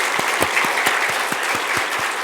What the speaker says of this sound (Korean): 여러분, 영예롭게 은퇴하신 박명래 권사님을 큰 박수로 축복해 주시면 감사하겠습니다